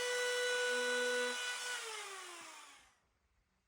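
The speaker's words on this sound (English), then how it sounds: "Now I grab the palm router with a spiral template bit" A palm router with a spiral template bit trimming plywood against a guide, a high whining motor tone that holds steady, then spins down and fades into near silence, heard close and alone.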